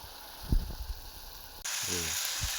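Tomato and spices fry in a hot pan, a steady hiss that jumps louder midway as more goes in, with a few soft clanks from a spoon; close and moderately quiet.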